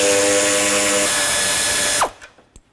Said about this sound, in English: I'll start by unbolting these 2 top ones with a 10mm socket.